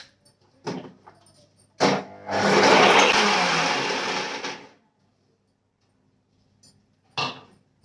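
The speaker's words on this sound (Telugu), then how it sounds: "ఇప్పుడైతే మిక్సీ పట్టేస్తే ఫస్ట్ వాటర్ ఏ వేయకుండా మిక్సీ పడతాను" A mixer grinder whirs through ginger garlic paste with no water added: a few clunks, then one loud grinding burst of about two and a half seconds that stops abruptly, followed by quiet and another knock.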